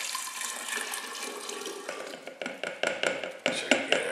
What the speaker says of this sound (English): Pour the brandy